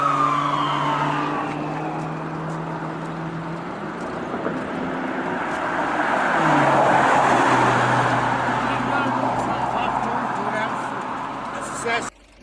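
A white toy police car's electronic siren wails steadily for about twelve seconds, close and fairly loud, its pitch sweeping down midway before cutting off abruptly at the end.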